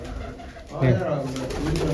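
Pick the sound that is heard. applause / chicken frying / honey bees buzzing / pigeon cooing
pigeon cooing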